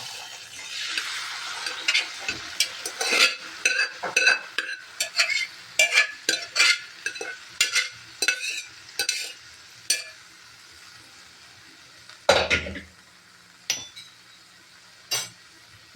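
Bitter gourd and spices being stirred in a pan, with a spoon scraping and clinking against the metal in repeated strokes over a soft sizzle, fairly close and with no talking.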